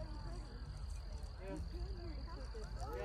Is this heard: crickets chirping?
yes